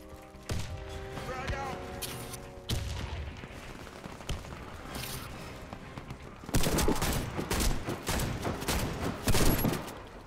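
Bursts of rapid gunfire in a video game crackle loudly in uneven volleys, with a dense, heavier stretch of shooting toward the end and faint voices underneath.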